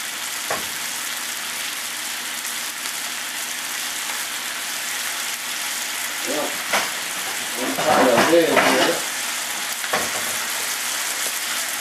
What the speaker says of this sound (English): We're going to drop our asparagus in the other skillet.